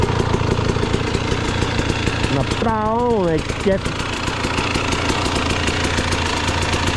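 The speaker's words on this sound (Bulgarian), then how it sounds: "Бати невероятния мотор е това." Enduro motorcycle engine idling with a steady, slightly knocking mid-range rumble throughout, briefly overlapped by a rising and falling whine in the middle while someone speaks.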